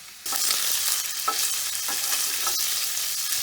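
Sausage for a frittata frying in a pan, a steady, bright sizzle that starts abruptly and runs continuously, with a few soft scrapes from stirring and no voices.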